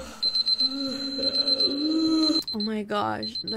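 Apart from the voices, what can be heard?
alarm clock ringing in Roblox Bloxburg video game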